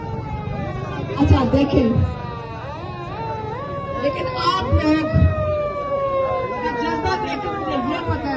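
Wailing ambulance siren sweeping up and down over a noisy street crowd, loud and continuous throughout, with someone talking over it.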